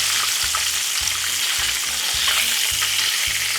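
Beef fries in a pan with a dense, constant sizzle and crackle, joined by regular low knocks as it is stirred, and no voices present.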